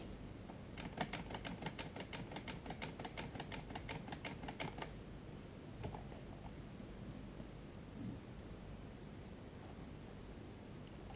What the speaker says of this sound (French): Il a tiré 11 coups.